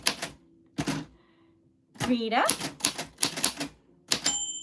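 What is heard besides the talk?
typewriter typing names, carriage moving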